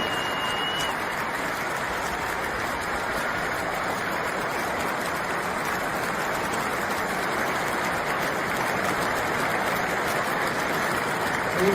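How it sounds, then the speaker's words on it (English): Anfield crowd at a Liverpool match responds to Salah coming onto the pitch with sustained, dense applause and cheering, a steady roar of clapping that holds at full volume throughout. "this is just a clip of how the crowd responded to Salah coming onto the pitch"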